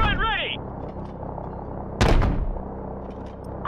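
Gunship cannon fire in Call of Duty: Modern Warfare Remastered, heavy booms and rumbling bursts under radio chatter, with one loud blast midway standing out above the steady din.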